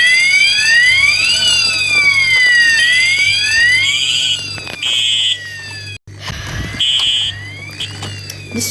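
A paper-style fire alarm test fills the room with loud, continuous electronic tones that sweep up and down in a repeating wail, with steady horn-like blasts layered on top and a brief cutout near the end.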